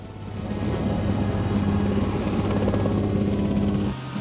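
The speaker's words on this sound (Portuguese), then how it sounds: "apoiado por uma grande frota de helicópteros" Military helicopters in a large fleet during the Gulf War produce a steady, droning rotor hum with a low buzzing tone, continuous and moderately loud before cutting off abruptly at the end.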